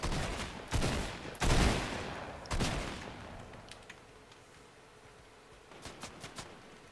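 Video game gunfire from a multiplayer battle royale match, with several loud bursts of rapid shots in the first few seconds, then quieter scattered distant shots and a short late flurry.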